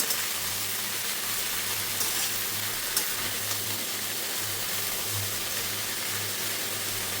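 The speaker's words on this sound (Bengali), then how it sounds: "এটা আস্তে আস্তে ভাজা হোক" Jackfruit with shrimp frying slowly in a pan, a steady, even sizzle running continuously at moderate level with no talk over it.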